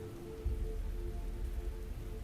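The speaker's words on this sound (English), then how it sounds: "At some point, the rain began to fall once more." Soft, steady rain falls in a fantasy role-playing game, a gentle continuous patter with low rumbling underneath and a faint held tone, even in loudness throughout with no voices.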